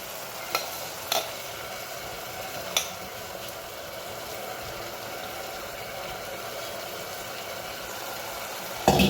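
Soaked rice stirred in a pan of cooking vegetables and fenugreek leaves, a steady low sizzle and scraping with a few sharp clinks of the spoon against the pan, close up and without talk.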